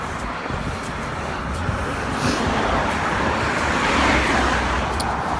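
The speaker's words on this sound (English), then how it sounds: "I'll wait for these cars to go by." Steady traffic on a road as several cars pass close by, a continuous broad rumble that swells and fades, with no talking over it.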